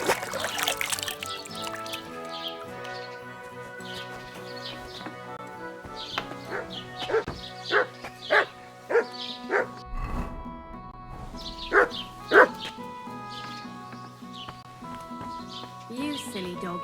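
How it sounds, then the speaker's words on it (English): Dog barking in Kingdom Come: Deliverance II, a run of sharp barks in a loose rhythm over game music and a soft trickle of water. "You silly doggy."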